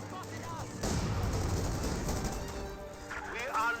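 Sustained MG42 machine gun fire in the World War II strategy game Company of Heroes 2, a dense rattling burst layered with battle noise and distant explosions under a voice commentating.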